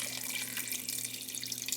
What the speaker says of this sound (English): I'm gonna fill up that pot until everything is submerged in water.